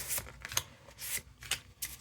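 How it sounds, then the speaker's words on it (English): Tarot cards riffle and shuffle in several quick bursts, a papery flutter repeating close by and fairly quiet. "One more shuffle here."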